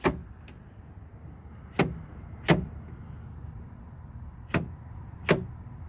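Door lock actuator in the door of a 2002 Isuzu Trooper 3.5L operating, giving sharp mechanical clicks and clunks: a pair near the start, two more a little later and another two toward the end, over a quiet background hum.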